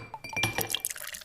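Liquid is poured into a glass, a quiet close-up of trickling and splashing broken by a few light clinks of glass, with no one speaking over it.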